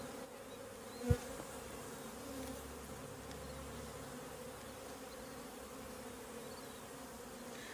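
Honey bees hum in a newly installed nuc hive, a steady low drone of many wings that holds faint and even throughout, with one brief louder knock near the start.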